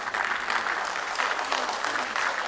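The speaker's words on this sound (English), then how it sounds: "Can we have a great round of applause for Sir Vinod Chauhan" Sustained audience applause honoring Vinod Chauhan at the Sikhlens India Film Festival 2021, a dense, steady wash of clapping that holds at an even level throughout with no voices over it.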